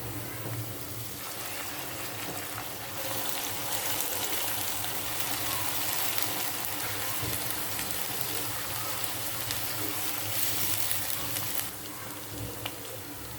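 Spice paste sizzling and frying in hot oil with softened onions for a Bengali beef liver bhuna, a steady close crackling hiss that grows louder after a few seconds and continues without talk.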